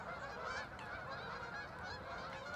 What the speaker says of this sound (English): Some Canada geese coming in as well.